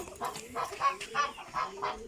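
Farmyard chickens cluck in a run of short, close, repeated calls, with no voices over them.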